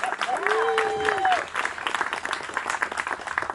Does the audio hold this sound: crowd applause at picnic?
yes